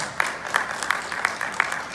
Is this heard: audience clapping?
yes